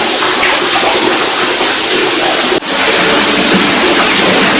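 Water gushing out of an oil-pressure borewell, a loud, steady broadband rush that carries on without a break apart from one brief dip partway through.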